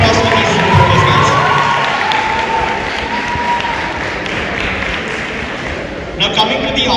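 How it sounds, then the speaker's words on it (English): An audience at a model UN closing ceremony applauds and cheers for the reporters, a loud, sustained wash of clapping with scattered shouts that fades slightly before a few final claps. "Huge round of applause for these reporters, guys."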